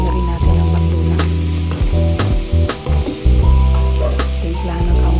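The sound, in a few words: stirring carrots and chicken frying in a pan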